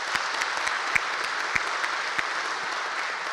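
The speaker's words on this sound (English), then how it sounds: "If we can give them a round of applause before we start." A church congregation at its annual meeting applauds, a dense, even round of clapping from a full room that holds steady throughout with no talking over it.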